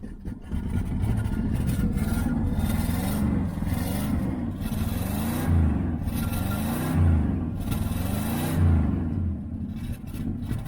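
A 1973 Pontiac LeMans that sat for 25 years, running rough, revs repeatedly. The engine roars loud and close in steady rising and falling surges without a break.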